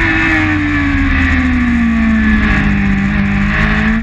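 Motorbike engine held at steady revs in first gear through a narrow right-hand corner on a road, a loud, continuous close drone with a slowly falling pitch and no talk.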